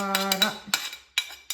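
A utensil scrapes and clinks against a bowl while tofu ravioli filling is mixed, a few sharp metallic taps between softer stirring, close and fairly quiet.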